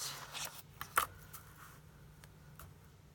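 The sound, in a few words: scissors cutting out a card piece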